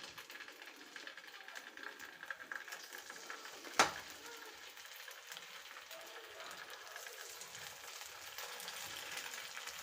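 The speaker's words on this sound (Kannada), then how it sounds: "ಈಗ ನಾವು ಮಸಾಲೆ ಕಲಸಿಟ್ಟಿರೋ ಮೀನನ್ನ ಇದಕ್ಕೆ ಹಾಕ್ಕೊಳ್ತಾ ಇದ್ದೀನಿ" Masala-coated fish frying in a few tablespoons of oil on a tawa, a steady, fairly faint crackling sizzle throughout with one sharp clatter partway through.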